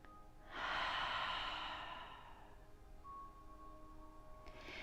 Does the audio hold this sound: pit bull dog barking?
no